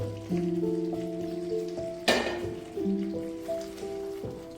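Fried vegetables drop into a pan of sizzling veg bhuna masala, a sudden louder burst of frying partway through that settles into a steady sizzle, all over sustained background music.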